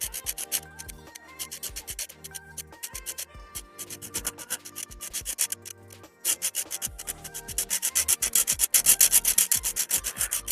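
Sawing through a beefy Axial RC car suspension link, a harsh rasping grind with rapid rhythmic strokes that builds louder toward the end, heard alone without talk.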